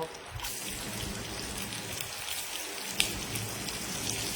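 Onions tossed into hot oil for a potol dolma recipe sizzle with a steady, crackling, rain-like patter that stays even and close throughout.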